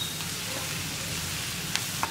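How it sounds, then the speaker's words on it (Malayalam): Spice powders are stirred into onions in a pan for a Kerala hotel-style egg roast, a low steady sizzle with a couple of brief scraping clicks of the spoon, fairly quiet and with no voices. "ഇത്രയും ചേർത്തിട്ട് ഈ പൊടികളൊന്ന് കുക്കായി വരുന്നത് വരെ ഇളക്കി കൊടുക്കുക."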